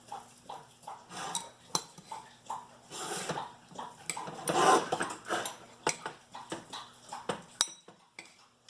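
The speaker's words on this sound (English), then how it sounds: "So I'm sprinkling on what looks like about 1/4 cup of nutritional yeast. And I'm going to stir that in." A utensil stirs nutritional yeast into a vegan cauliflower au gratin, giving scattered scrapes and clinks against the dish in an uneven rhythm, some sharper taps standing out, all fairly quiet.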